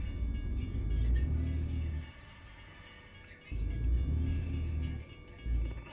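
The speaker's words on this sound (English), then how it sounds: "That train taking off again." A train pulls away in American Truck Simulator, a deep rumbling roll that swells, drops off briefly, then returns, steady and fairly close with no talking.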